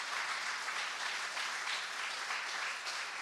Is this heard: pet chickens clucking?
no